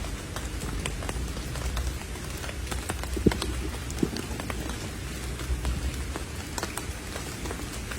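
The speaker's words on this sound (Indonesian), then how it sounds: "Di sebelah sana sepertinya sudah hujan, karena terdengar sekali suaranya." Rain falling in a forest around a solo campsite, a steady dense patter with scattered sharper drops and light knocks, moderately loud and continuous, with no voices.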